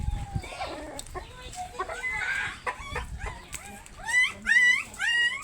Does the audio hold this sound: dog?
yes